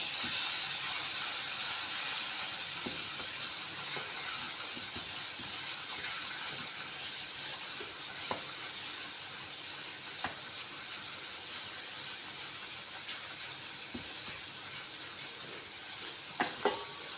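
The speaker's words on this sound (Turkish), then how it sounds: "Üzerine salçalarımı ilave ediyorum. Şöyle salçalarımızı da kavuracağız." Tomato paste sizzles and hisses steadily in a hot pan over toasted flour as barley vermicelli soup is made, a continuous close frying noise with a few faint clicks.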